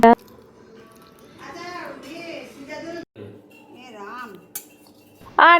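Plates and cutlery clink and scrape at a home lunch table over biryani and chicken kosha, with people talking throughout and a couple of louder bursts at the start and end.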